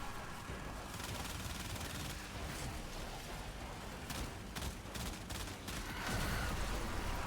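Continuous gunfire in Warframe, a steady wash of rapid shots forming a dense, noisy barrage that grows slightly louder near the end, with no talk during it.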